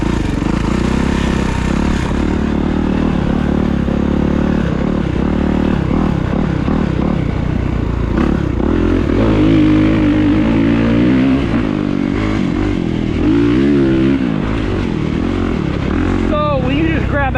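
A 2023 Kawasaki KX450SR dirt bike engine revs hard and loud throughout, rising and falling in pitch with throttle blips, close by with wind and some talk underneath.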